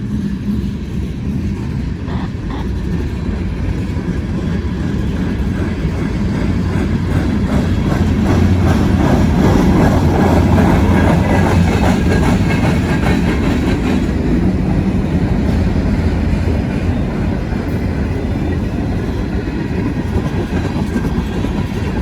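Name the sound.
freight train wheels with flat spots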